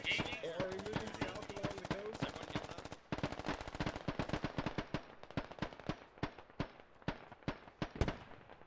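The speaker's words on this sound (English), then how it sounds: "They're shooting towards Pony" Gunfire rattles through a Squad multiplayer battle, with rapid machine-gun bursts and single sharp shots that fire steadily throughout and grow denser in the later part, mixed at a moderate distance.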